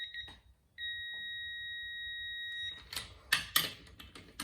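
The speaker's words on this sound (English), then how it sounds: "And there's a long, long beep." A digital torque wrench emits one long, steady high-pitched beep lasting about two seconds, followed by clicking and ratcheting mechanical noises.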